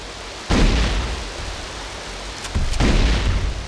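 Two loud booming bursts from a plasma rifle in a video game, one near the start and another near the end, each leaving a rumbling, noisy tail between them.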